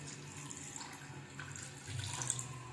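Water pours steadily into a cooking pot for pork ribs, a continuous close splashing flow that rises slightly in level toward the end, with no talking.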